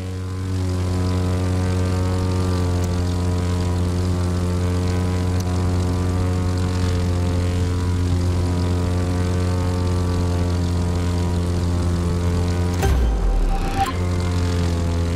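A propeller airplane in The Crew 2 racing game drones with a steady, loud engine hum throughout, then a brief rumbling disturbance near the end.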